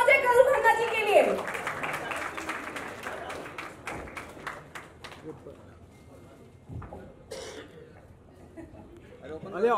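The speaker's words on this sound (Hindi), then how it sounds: "जोरदार तालियां हो जाए तरुण खन्ना जी के लिए" Applause greets actor Tarun Khanna as he comes on stage at a Bollywood movie trailer launch, a short burst of clapping that quickly thins out while voices and a little laughter carry on over it.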